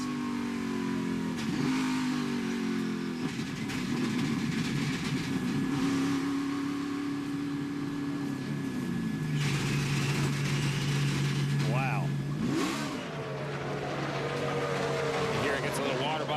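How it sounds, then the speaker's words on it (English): A NASCAR Cup race car engine at the 2017 Pure Michigan 400 revs and stutters roughly at low speed as the car wheel hops into pit road, its pitch rising and falling with violent judders, under a continuous loud drone. "listen to how violent this is as he wheel hops getting into pit road"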